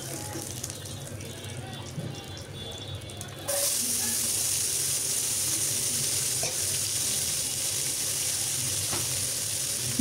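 Chopped onion and green chilies frying in a small amount of oil, a steady close sizzle that jumps louder a few seconds in as the ingredients hit the pan, then holds a constant hiss with faint stirring clicks.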